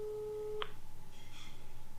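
A mobile phone call tone beeps in a steady, rapid pulsing pattern after a short click, with faint room noise underneath and no talking.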